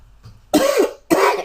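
Two separate coughs in quick succession, close and fairly loud, each a harsh burst with a throat-clearing quality, with a quiet pause between them and no talking.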